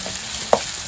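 Chopped onion frying in a pan for a brinjal bharit, a steady low sizzle running throughout with one brief sharp tap of a spoon near the middle.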